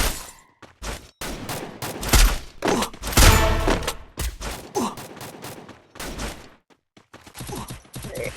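Sniper rifle fire in the Free Fire battle-royale game, a dense run of sharp gunshot cracks and thumps from an esports match, loud and close, with bursts clustered through the middle and scattered shots toward the end.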